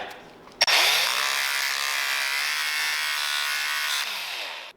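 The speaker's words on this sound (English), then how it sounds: "I'm gonna grind this off from this side." A power grinder revs up with a click and grinds steadily for about four seconds to cut off a broken tab, a loud close high whine that then winds down.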